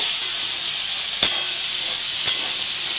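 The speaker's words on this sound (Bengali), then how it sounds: "আলুটা আগে ভালো করে ভেজে নিই, লাল লাল করে ভেজে নিলে সবজিগুলো খেতে ভালো লাগবে।" Potatoes frying in a pan for a mixed vegetable dish, a steady close hiss of oil with two brief clinks of a utensil stirring.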